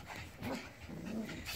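A dog growls low and throaty in two short rumbling bursts, close by and fairly quiet, with slight panting between them.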